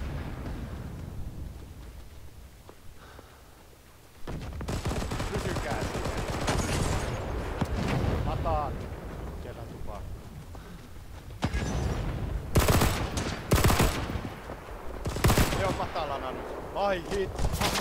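A machine gun fires right beside the player in the Talvisota Winter War shooter set at Kollaa, with loud close bursts and scattered distant gunfire over a rumbling battlefield, and a voice talks over parts of it.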